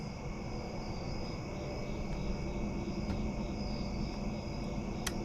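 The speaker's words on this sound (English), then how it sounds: "tell me if you can hear some crickets tonight" Steady, shrill cricket chirping fills a quiet night, a constant high trill with a few brief clicks, no one speaking.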